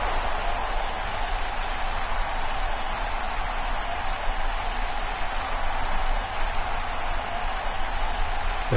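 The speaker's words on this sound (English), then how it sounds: "The crowd is hyped for this one." A wrestling pay-per-view crowd keeps up a dense, steady roar of cheering and applause that fills the arena evenly, with no talk over it.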